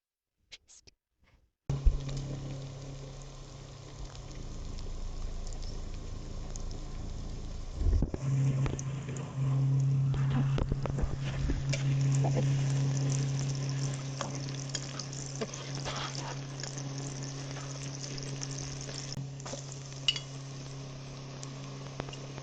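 Onions hitting hot soybean oil for fried rice, a sudden sharp sizzle that settles into a steady, close hiss lasting many seconds, with occasional utensil clinks.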